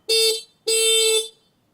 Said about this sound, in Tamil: ஓகே, இப்போ நான் ஹார்ன் அடிச்சு பார்ப்போம்.